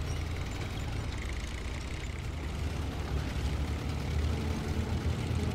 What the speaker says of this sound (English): Hear like the double Lodestar engine